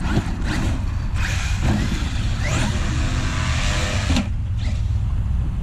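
Traxxas X-Maxx RC monster truck motor whining loudly and continuously under throttle during an outdoor bash, with several short sharp bursts as the throttle is punched and eased, no talk.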